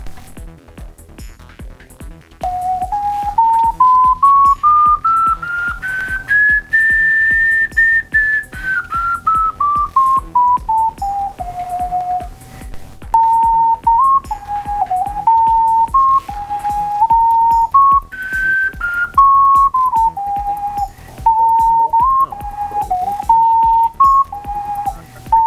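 A hand-made 10-hole ocarina plays a slow, airy melody alone, its pure, slightly out-of-tune tones gliding up and down with wavering pitch.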